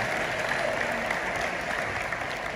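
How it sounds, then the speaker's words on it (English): Guests at a celebration clap their hands in steady, dense applause that fills the room evenly throughout, with no break. "This is your new daughter. Clap your hands, everyone."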